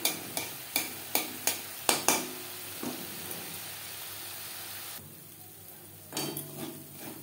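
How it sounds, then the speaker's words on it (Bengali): A spoon stirs ghee cream in a pan over a low gas flame, making quiet, rhythmic metallic clinks and scrapes over a faint, soft sizzle, with short pauses between strokes. "এইভাবে লো ফ্লেমে নাড়াচাড়া করতে থাকবো যতক্ষণ না পর্যন্ত পুরোপুরি ঘিটা বেরিয়ে আসছে।"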